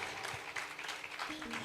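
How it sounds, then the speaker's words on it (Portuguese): A church congregation claps together during a worship service, a short burst of crowd applause that sounds moderately distant, rippling and uneven. "Você pode aplaudir esse Jesus lindo e maravilhoso, porque Ele é e sempre será"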